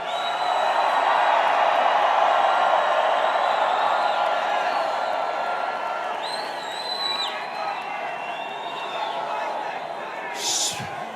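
Large political campaign rally crowd in Atlanta cheering loudly and continuously, a dense roar of many voices with scattered whoops and whistles, steady throughout with a brief sharp burst near the end.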